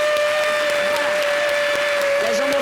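Audience applause at a French-language talk show, a dense steady wash of clapping at full volume throughout, with a few voices faintly audible beneath the crowd noise.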